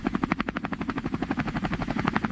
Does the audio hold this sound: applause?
no